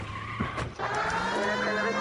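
Stolen car in the 1940s Los Angeles detective game L.A. Noire skids off with a sharp tire squeal, then its engine roars steadily away, loud and close, with no voices.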